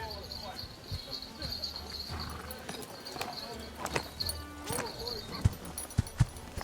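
Hooves of Mongol Yam relay horses thud in the Age of Empires IV game, a few sharp hoofbeats standing out toward the end over steady ambient background with insect-like hiss.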